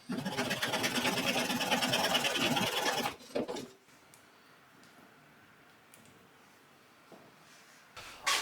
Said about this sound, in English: I can use my hacksaw and I can cut them the same length every time